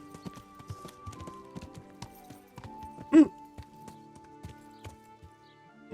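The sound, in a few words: horse galloping in Kingdom Come: Deliverance video game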